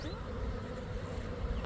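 Honey bees in a small, portable nucleus hive give off a dense, continuous buzzing hum, fairly faint but steady throughout.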